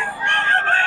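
A rooster crows among fowl at a poultry seller's place, one sustained call at close range, with a faint voice in the background.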